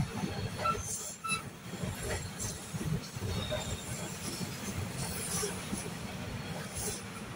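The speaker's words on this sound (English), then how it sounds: "Oh, look, another train's coming." An approaching train rumbles and rattles at moderate distance, with wheel squeal and faint clacking over a continuous low roar; no talk is heard.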